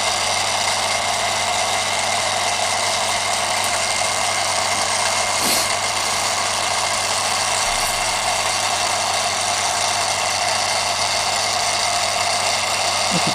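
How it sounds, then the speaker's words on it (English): Steady, continuous whirring hum of a Kenpro KR-400 antenna rotator motor running, close and even throughout, with a faint click about midway. "you can hear the actual motor, off-axis motor dropping in back onto the brake again."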